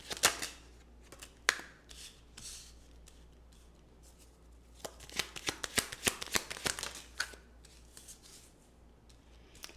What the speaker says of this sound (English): We're going to pull some tarot and then some oracle cards.